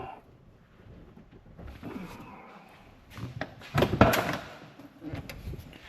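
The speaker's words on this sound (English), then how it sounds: "We get this door open." A 1994–1997 Ford OBS pickup truck door is opened, with soft handling clicks, then a louder latch clunk and rattle in the middle, followed by lighter knocks in a quiet setting.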